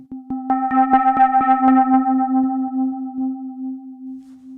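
A Nord Drum 3P synth hit with a steady low tone and a rapid flurry of metallic, driven overtone strikes that slowly fade and ring out.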